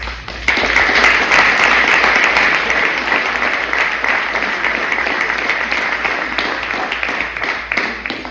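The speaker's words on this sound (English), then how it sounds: "I just wanted to give Coach Jones a round of applause, please" A banquet audience applauds a coach, a loud, sustained wash of many hands clapping that holds steady for several seconds without talk.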